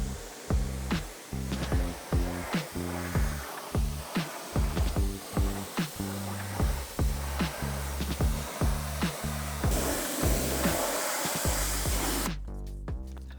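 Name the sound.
pressure washer spraying a car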